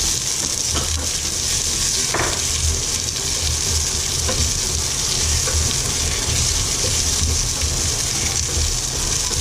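Garlic sautéing in a pan for Bicol-style kansi, a continuous even sizzle with a hissy, watery texture and a few faint stirring knocks, close and steady throughout.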